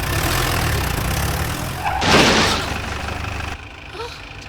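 A car engine rumbles steadily as the car reverses on a forest road blocked by a fallen tree, with a sudden loud rushing burst midway before the sound drops quieter.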